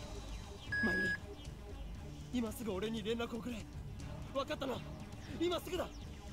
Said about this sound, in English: Please leave your message after the beep.